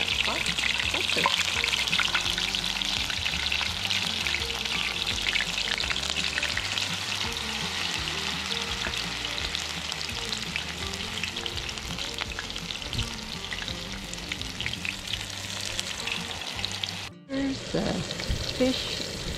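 Steady, loud sizzling and crackling of jalapenos frying in hot oil, continuous throughout with a brief clatter near the end.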